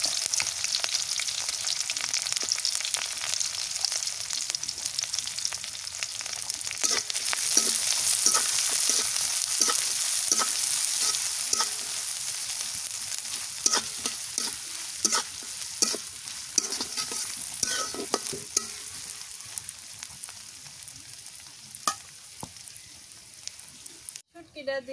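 Chopped onion and green chili fry in hot oil with a steady, bright sizzle, broken by the scrape and tap of stirring that grows more frequent toward the end, with faint voices in the background.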